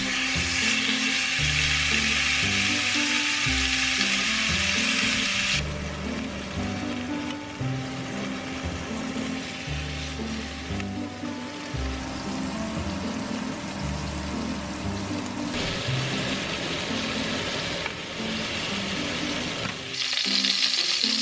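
Onions frying in a super hot pan, a loud steady sizzle and crackle that runs throughout, with stirring and pan noise layered in and brief bursts of hissing toward the end.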